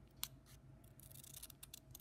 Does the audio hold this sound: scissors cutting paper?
yes